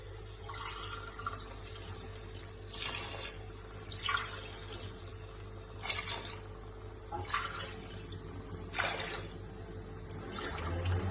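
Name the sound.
pouring water into mutton kulambu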